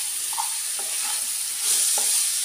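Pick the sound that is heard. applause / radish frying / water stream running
radish frying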